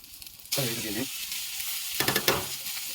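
Onions and green chilies hiss as they are lightly fried in a pan, with two bursts of sizzling and stirring separated by brief quieter moments, heard close up.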